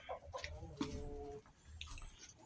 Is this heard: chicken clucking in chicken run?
yes